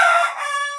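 A rooster on a home chicken farm lets out one short, loud crow close by, cut off after less than a second with no other sound.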